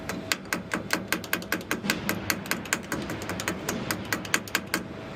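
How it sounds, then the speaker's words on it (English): Rapid, steady metallic taps from a small hammer seating a clamp during aircraft maintenance, about five strikes per second, close and fairly loud against a faint workshop hum. "So the purpose of the tap is basically make sure the clamp sit properly inside."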